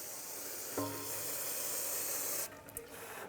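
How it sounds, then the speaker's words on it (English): Brake cleaner sprayed onto a brake caliper on a 2012-2020 Ford Focus during a front brake job: a steady close hiss from the aerosol that cuts off after a couple of seconds. "Rinse it off with some brake cleaner."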